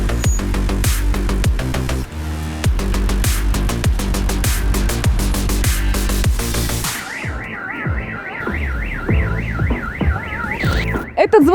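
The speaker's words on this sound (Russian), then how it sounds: "а ведь это сигнализация" A loud car alarm cycles through patterns: rapid repeated honking chirps, then a warbling rising-and-falling siren tone, close by and piercing.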